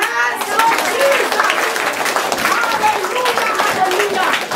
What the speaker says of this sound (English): Clap your hands, Lord Jesus